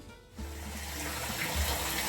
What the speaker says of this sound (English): I do have the water running